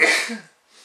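A single sharp human sneeze, close and loud, a quick burst that fades within half a second followed by a faint breath.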